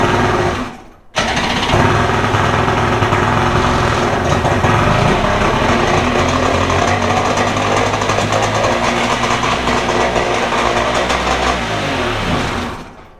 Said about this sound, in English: we turn it over. Hopefully we got fire in every cylinder.